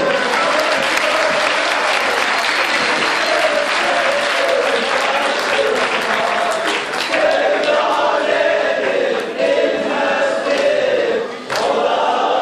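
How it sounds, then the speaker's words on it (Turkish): Sustained loud applause from a crowd at a Turkish village youth group's çardak show, continuous dense clapping with cheers rising through, a brief dip near the end. "Alkışlarla, tempolarla uğurlayalım"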